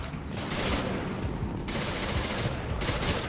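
Sustained automatic gunfire from a firefight in Mass Effect Legendary Edition, dense bursts of rapid shots rattling loudly and continuously across the whole stretch with no talk.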